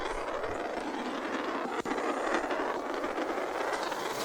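A train rolls along rails in a Roblox train game, a continuous loud rumble and rushing hiss with one brief sharp click partway through.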